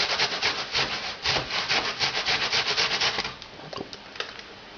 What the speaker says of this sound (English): And then we're going to grate some onion.